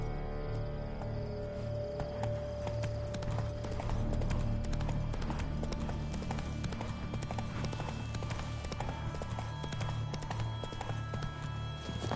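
Horse hooves clip-clop in a steady, even walking rhythm in The Witcher Blood and Wine game, carrying on throughout over a dense bed of background music and ambience.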